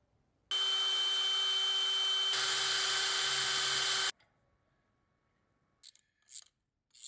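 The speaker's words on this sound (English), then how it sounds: "all I have to do is drill and tap a couple holes here on the side of the mill" A handheld drill bores into the cast side of a mill/drill machine, a loud steady whine of about three and a half seconds that shifts pitch midway, then stops, followed by a few faint scrapes and taps.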